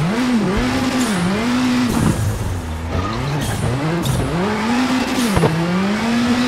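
A rally car in WRC 7 on Monte Carlo tarmac throws a handbrake turn, tyres squealing in long wavering whines over a steady engine drone, close and loud.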